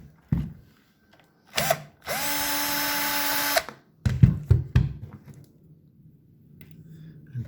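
A power drill backs a screw out of an amplifier: one loud, close whirring burst of about a second and a half, with handling clicks and knocks before and after.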